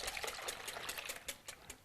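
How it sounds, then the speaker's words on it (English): Milk is poured into a large bowl of three beaten eggs, giving a faint liquid trickle with a few soft splashy pulses, heard alone without speech. "Now next I've got 3 beaten eggs in a large bowl, and I'll add in 2 cups of milk"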